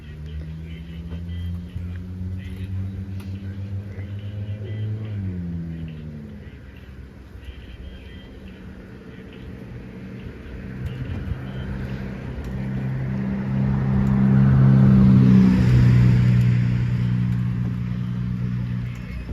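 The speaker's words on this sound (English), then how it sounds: "As soon as I get out there to the road, another car comes." A car on a road approaches with a shifting engine tone, then swells loudest and passes near before fading, with low outdoor background throughout.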